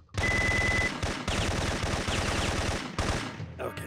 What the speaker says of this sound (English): let me just shoot it around